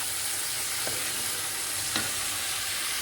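Chili and salt being stirred into shrimp cooking in a pan, a steady sizzle of frying with a couple of faint scraping strokes from the spoon, heard alone at close range.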